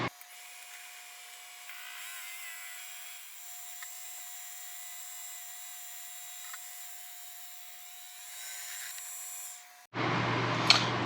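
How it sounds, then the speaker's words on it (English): A drill with a 23 mm bit bores out a baseball bat ring, a steady high whine running for about ten seconds before cutting off into a louder burst of harsh noise. "we are going to bore this guy out with the 23 millimeter bit"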